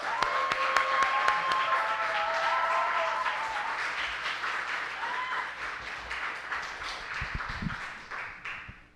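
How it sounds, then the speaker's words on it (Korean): A church congregation claps in welcome during a Sunday afternoon service, a broad sustained wash of applause with a few whistles early on, moderately loud and slowly fading toward the end. "우리 박수로 크게 환영의 목소리와 함께."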